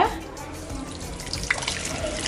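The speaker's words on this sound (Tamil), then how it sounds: "இப்போ நம்ம ஜூஸை சேர்த்துடலாம்." Watermelon juice is poured into a pan for a summer watermelon jelly, giving a soft, steady liquid trickle and splash that runs throughout at moderate level, with a brief louder splash partway through.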